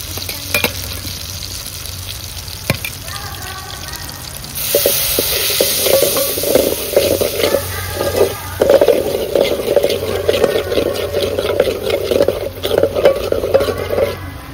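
Masala sizzles and fries in a pot for spicy mutton rassa curry, with a steady close hiss that swells louder halfway through, broken by scraping stirs against the pan and occasional clinks.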